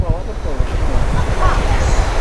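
Cool mountain wind on Doi Inthanon buffets the microphone in a loud, continuous, gusty rush. A voice speaks faintly beneath it.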